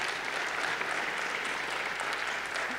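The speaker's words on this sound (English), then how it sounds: "Clap for those." An audience at an art conversation event claps steadily, a dense wash of hand claps from a crowd, even in level throughout with no voices standing out.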